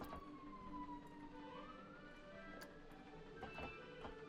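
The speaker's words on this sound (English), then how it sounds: "The police siren outside's going off." Police siren in the video game Planet Coaster, its wailing tone rising and falling steadily for several seconds at a distance outside, blended with faint traffic and park ambience, with no talk.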